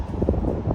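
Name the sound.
strong wind blowing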